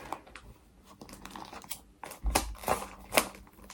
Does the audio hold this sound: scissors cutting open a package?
yes